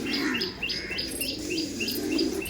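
Pigeons from a loft, a female pigeon among them being let go, give repeated short chirps and coos over a steady background murmur, with faint wing movement.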